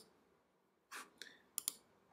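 A computer mouse gives a few soft, close clicks: one at first, then a quicker pair near the end, over near silence.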